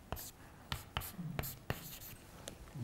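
Marker or chalk strokes writing an equation on a board during a physics lecture at a summer school, a string of short scratchy taps and squeaks in an uneven rhythm, moderately close in a quiet room.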